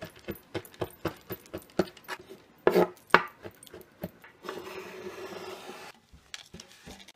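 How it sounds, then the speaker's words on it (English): A knife chopping chocolate chips on a board for no-cook fudge, with a quick run of sharp, close taps and knocks, some louder, followed by a brief scraping rustle, then a few more taps. "I'm going to chop up some chocolate chips to sprinkle on the top."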